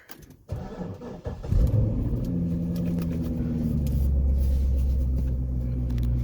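A C5/C6 Corvette with replaced shocks, after a brief thud, rumbles up and drives off. The engine is close, loud and deep, and its steady growl builds and holds throughout, without talk.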